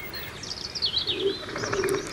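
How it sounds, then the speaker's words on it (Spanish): Laurel forest pigeons in the laurisilva of Garajonay on La Gomera, with soft low coos against a backdrop of thin, wavering bird chirps and faint forest ambience, no voices. "Muy distinto ocurre con las palomas de la laurisilva."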